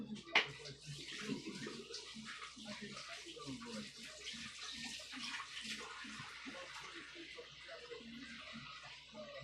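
Tap water running into a kitchen sink while hands are washed during curry chicken prep, a steady quiet splashing stream with soft gurgles and a brief clatter near the start.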